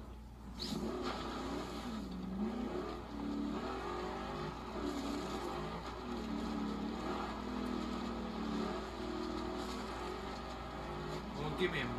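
A car drives cross country in Forza Horizon 2, its engine humming and revving in uneven surges at moderate loudness while someone talks over it.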